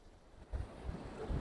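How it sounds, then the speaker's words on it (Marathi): Monsoon water rushing forcefully under a bridge at Gadeshwar Dam near Panvel, a low, steady roar with buffeting wind gusts swelling and falling, no voices. "मस्त वाहतं पाणी आहे इकडे खाली आणि फुल फोर्स मध्ये आणि प्रेशर मध्ये"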